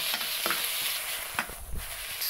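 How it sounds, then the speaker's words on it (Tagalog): Meat sautéing in a pan for pinakbet: a steady frying hiss with a few scraping stirs of a spoon, close by and without talk. "Gigisa muna yung karne"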